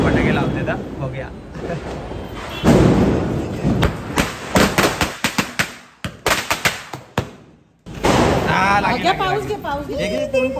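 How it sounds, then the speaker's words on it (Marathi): Diwali firecrackers going off outdoors in a rapid string of sharp bangs and thuds, close and loud, with people talking and shouting around them before and after. "भरपूर दिवसानंतर फटाके लावते ना बघूया."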